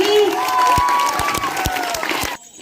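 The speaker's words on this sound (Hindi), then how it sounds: "हमारे देश के तमाम ऐसे सैनिकों के लिए जोरदार तालियां आज" Audience clapping at an outdoor street play, with scattered distinct claps over crowd murmur and a voice overhead, cutting off abruptly near the end.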